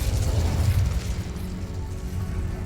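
Incendio fire spell cast in Hogwarts Legacy, a dense low rumbling whoosh of flame that swells at the start and then holds steady as a continuous roar.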